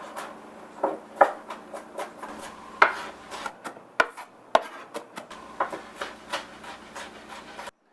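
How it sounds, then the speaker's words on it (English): A knife minces garlic on a cutting board in a kitchen, giving a run of sharp, close chopping knocks at an uneven rhythm with soft scraping between them. "you can go ahead and mince your garlic"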